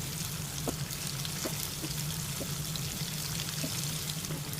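Chicken frying in hot oil in a pan with curry leaves just added, a steady close sizzle with small pops and crackles throughout, no voices.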